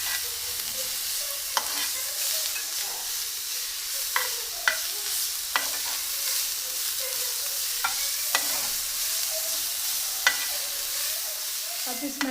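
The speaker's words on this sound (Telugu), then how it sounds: "పచ్చి స్మెల్ పోయేంతవరకు ఇప్పుడు మనం ఈ విధంగా బీట్రూట్ నేతిలో వేయించుకున్నాము" Grated beetroot fries in hot ghee with a continuous soft hiss and crackle, and a spoon scrapes or taps the pan now and then, close but moderately quiet, with no voices.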